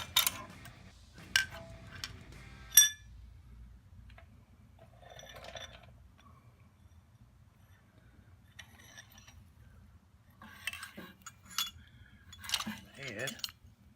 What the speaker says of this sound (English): I'm fixing to take this head off and see what's going on.